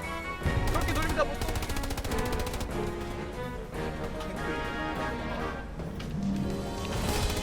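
Pistol shots ring out in a war video game, fired against a tank. Rapid, sharp reports sound at close range in quick bursts across the whole stretch, with players' voices talking over them.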